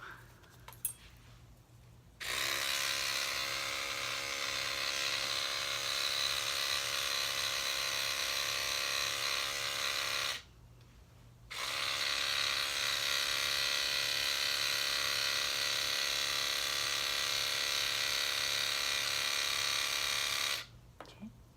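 A milkshake mixer motor runs in a milkshake shop setting, a steady loud whirring drone in two long bursts of about eight seconds each, separated by a short pause, with quieter handling sounds around it.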